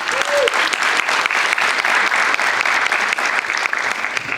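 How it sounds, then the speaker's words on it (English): Steady, loud audience applause at a graduation ceremony for a school board member, dense clapping continuing evenly throughout with some crowd voices underneath. "Let's give her a round of applause."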